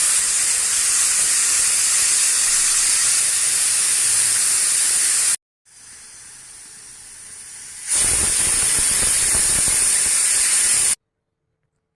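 A pressure cooker holding peas and potatoes vents steam in a loud, continuous, close hiss. The hiss drops briefly to a softer rush, then surges back at full force before stopping abruptly.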